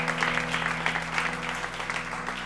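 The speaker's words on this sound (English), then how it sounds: "let's give Jesus a round of applause" A church congregation at a Sunday service claps together, steady moderate applause from a room full of people, continuous and somewhat distant throughout, with a faint tonal hum in the background.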